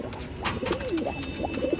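Pigeons coo close by in a soft, low, rolling series of repeated calls, steady and unbroken for the whole stretch, with no one talking.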